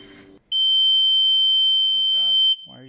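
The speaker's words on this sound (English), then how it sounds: "why are you beeping?" A steady, high-pitched electronic alarm beep from a rebuilt supercharged mini jet boat holds for about two seconds, with a voice talking briefly before and after it.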